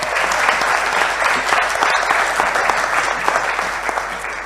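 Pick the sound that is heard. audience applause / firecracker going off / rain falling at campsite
audience applause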